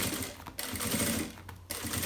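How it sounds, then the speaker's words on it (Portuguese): Sewing machine running continuously as it stitches right along the edge of a lining for a nail-polish carrying case, with two brief pauses breaking the steady mechanical whir. "começo a passar a costura na volta toda aqui"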